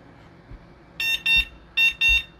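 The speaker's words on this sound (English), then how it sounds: "And then it has a cute little horn for you." The electronic horn of a Nakto Folding OX fat tire e-bike gives four short, shrill beeps in two pairs, close and loud over a quiet background.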